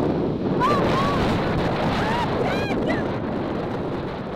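Strong wind roars and buffets the microphone continuously in Namibia, with a few faint high whistling tones rising and falling over it.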